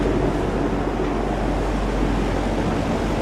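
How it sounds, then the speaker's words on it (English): A Kenmore Roll-A-Matic box fan runs steadily, blowing straight toward the microphone, which produces a loud, even rushing wind roar with a low hum underneath and no other sounds. "And then the fan's running again. That's blowing towards the camera."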